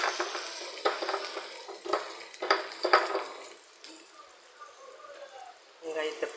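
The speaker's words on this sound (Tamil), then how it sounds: "வெங்காயத்தை போட்டு வெங்காயம் நல்லா வதங்கட்டும்." Finely chopped onions frying in oil in a pan, bursts of close sizzling and stirring scrapes in the first half that fade to a quieter hiss, with a voice speaking over part of it.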